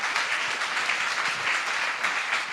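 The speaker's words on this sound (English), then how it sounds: "Give already a big applause to Alexandra." An audience applauds a speaker at a talk, with a dense, steady wash of clapping from many hands that continues throughout at even loudness.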